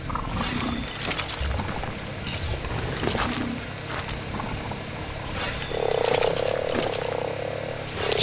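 Frog croaks from the game ARK: Survival Evolved blend into a busy mix of mechanical whirring and creature roars, with a low ribbed croaking that rises and falls across the scene at close range.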